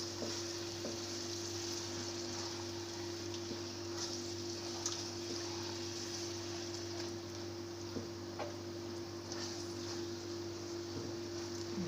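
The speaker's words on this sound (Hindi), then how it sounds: "थोड़ा भूनूंगी कि इसके अंदर मसाला हो जाए दाल के अंदर।" Dal and masala fry in a pan for Kabuli pulao, a steady, soft sizzle with occasional crackles and stirring ticks over a constant low hum.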